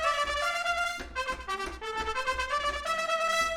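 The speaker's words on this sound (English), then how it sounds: "Double tonguing sounds like this." Rapid double-tongued brass ensemble phrase from the 8Dio New Century Ensemble Brass sample library, a quick run of crisp repeated attacks across shifting pitches, loud and close with no voices.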